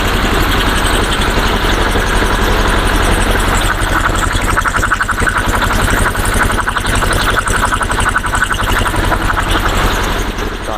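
A T-25 tractor engine idles steadily at close range, its low rumbling throb and mechanical rattle holding an even level throughout.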